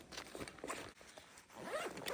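A zipper on a pocket of a bug-out survival backpack is pulled open, a short close-up burst of rasping zip sounds with light handling noise.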